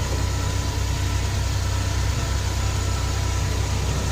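A car engine idles steadily after a fresh spark plug replacement, giving a constant low rumble with a fine rhythmic pulse and no change in pace throughout.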